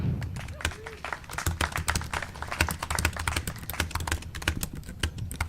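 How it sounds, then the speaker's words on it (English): Rapid, uneven clicking of keys on a computer keyboard, steady and close, with occasional heavier keystrokes throughout. "The sound of typing."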